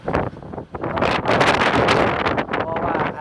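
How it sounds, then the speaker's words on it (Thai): Strong typhoon wind buffets the microphone in loud, roaring gusts that swell and dip throughout, with someone speaking under the rushing noise. "ลมพัดแรง"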